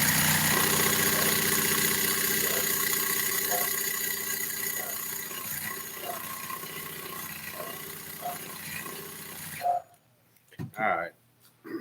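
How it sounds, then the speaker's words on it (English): An engine running after gas is squirted in, a steady rumbling idle with a rhythmic pulsing tick, loud at first and easing off before cutting out, followed by brief voices. "I can squirt gas in there and it should crank right up"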